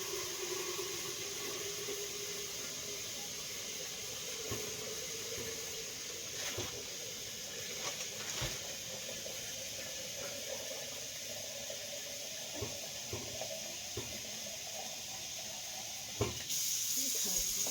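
Tap water runs steadily into a pot being filled for making chicken broth, a continuous hissing rush with occasional clunks and knocks.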